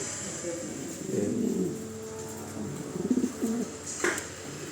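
Pigeons cooing in a double cage, low soft coos rising and falling in short bursts close by, with a brief higher call near the end.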